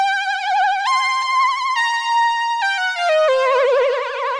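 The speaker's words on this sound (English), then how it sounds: "And in here is a synth sound called the Switched On Soft Lead," A mono synth lead playing the Viking Synth Switched On Soft Lead preset sings a short melodic line of sustained gliding notes with vibrato and pitch bends, clear and alone.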